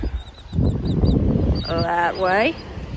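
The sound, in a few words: birds on a beach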